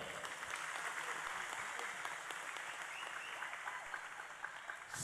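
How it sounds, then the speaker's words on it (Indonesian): Warm applause from an evening religious gathering crowd in Jepara, a dense, steady patter of many hands clapping continuously, fairly distant and sustained. "Tepuk tangan buat Bapak Bupati."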